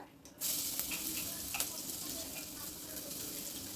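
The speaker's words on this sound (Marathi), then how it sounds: "हिरवी मिरची, लसूण, कढीपत्ता, आलं हे जे वाटून घेतलंय ते भांड्यात कढईमध्ये घालूया" A ground paste of green chili, garlic, curry leaves and ginger drops into a hot kadhai for a green pea dish. It breaks into a sudden, close sizzle that holds steady and dense, with faint stirring scrapes.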